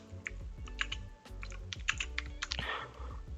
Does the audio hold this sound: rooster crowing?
no